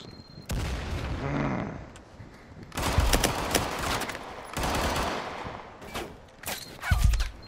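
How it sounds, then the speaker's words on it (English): Gunfire crackles through a tactical shooter match in Firewall, with several loud close bursts of rapid shots and heavy reports separated by short lulls. "Somebody shooting me through the gaps."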